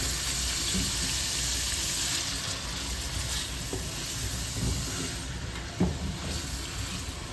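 Steady, loud sizzling of tofu frying in a hot pan, with a few soft clinks of utensils.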